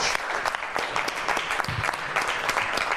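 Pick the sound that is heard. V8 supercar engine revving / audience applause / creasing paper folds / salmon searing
audience applause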